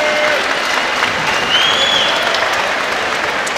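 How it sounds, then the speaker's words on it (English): Crowd applause for two Muay Thai fighters after a bout, a dense, steady wash of clapping from a large arena audience that holds loud and even throughout, with a faint whistle rising over it. "please, a huge round of applause for both fighters"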